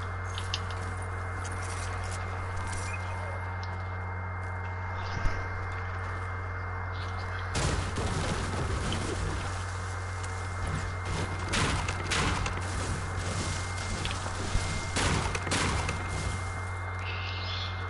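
Gunfire from a PS4 shooter, rapid bursts of shots and scattered single cracks breaking through a constant steady hum, with no talk over it.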